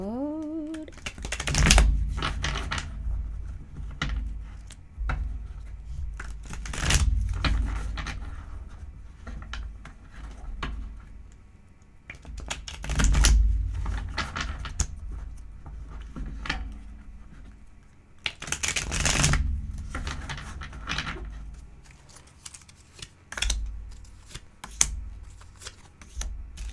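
Bursts of tarot card shuffling recur every few seconds, crisp riffling flutters close by with quieter handling and soft thumps between them.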